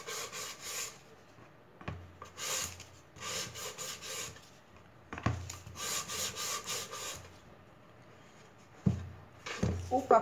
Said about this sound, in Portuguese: Já lixo aqui também, ó, com a lixa de acabamento.